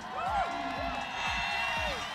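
An audience at the Miss Intercontinental 2018 evening gown competition cheers and whoops steadily, while an announcer's voice sits close over the crowd noise.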